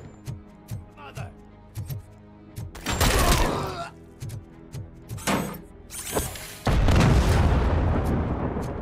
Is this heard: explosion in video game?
yes